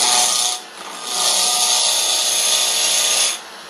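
A hand gouge pushes through wood and peels off shavings in two long, loud rasping strokes up close, with a brief pause between them and no talking.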